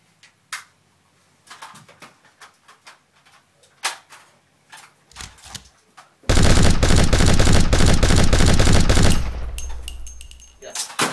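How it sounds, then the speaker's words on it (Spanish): Scattered sharp clicks and knocks give way to a loud, rapid burst of machine-gun fire lasting about three seconds, then a fading rattle. "Ahora, la metralleta, por favor."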